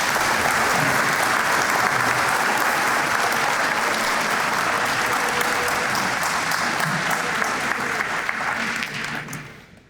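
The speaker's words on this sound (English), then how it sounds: "Let's give them all one more big round of applause." Sustained applause from a large audience at an academic awards banquet, dense and steady throughout before tapering off at the very end.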